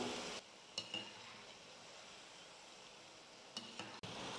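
Quiet steady sizzle of a wheat flour and egg snack frying in oil, with a ladle stirring and a few light metallic clinks against the pan; no talking.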